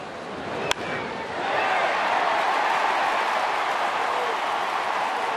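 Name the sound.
baseball crowd cheering for Cabrera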